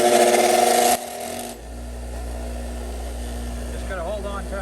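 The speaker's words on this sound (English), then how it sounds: "I'm going to wire brush these screws to clean them up" A wire brush scrubs old screws from a 1940s Knapp Monarch Koldair fan, a steady close rasping scrape that starts after a short burst of louder noise, with faint squeaks near the end.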